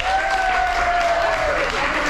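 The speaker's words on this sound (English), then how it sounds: "clap your hands!" Cruise ship audience applauding, a dense continuous wash of clapping from a large crowd, with a voice or whistle-like tone sliding over it.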